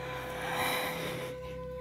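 A slow, deep breath drawn in and let out during a nighttime Shakti yoga flow, a soft airy rush that swells and fades over a steady tonal music bed.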